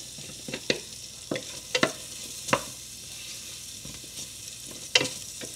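Onion and garlic sizzle steadily in a hot pan, with a spatula scraping and stirring in sharp, irregular clicks up close.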